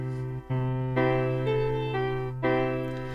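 Soft sampled Mellotron-style piano notes from a Mellowsound iPad app sound as a short sustained phrase, a low held tone beneath gently changing upper notes, clear and alone.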